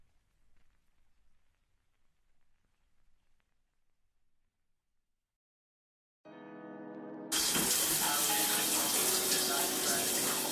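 Shower water comes on after a quiet stretch, first as a thinner tonal spray and then as a sudden loud, steady hiss of running water.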